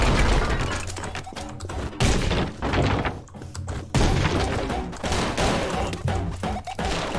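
Video game gunfire erupts in dense, rapid bursts of shots and thuds, loud and close, with brief gaps between volleys and no voices.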